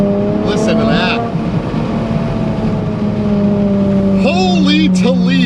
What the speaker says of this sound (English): And to think this is the engine out of a 2015 Toyota Sienna.